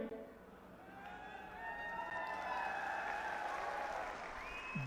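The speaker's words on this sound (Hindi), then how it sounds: "अभी आपने ताली बजा दी" Audience clapping at a Congress Party political rally in Haryana, a sustained wash of applause that swells and holds, with the crowd's noise rising in the second half and faint tones layered above.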